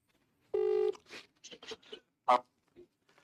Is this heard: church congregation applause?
no